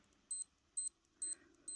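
Digital wristwatch alarm in the Casio Baby-G style beeping, four short bright double-chirps at a steady pace, close and clear with no talking.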